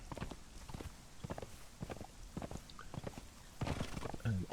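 Horse hooves drumming in a steady galloping clip-clop in Conan Exiles, close and fairly loud against an outdoor ambience, with a brief snort or whinny near the end.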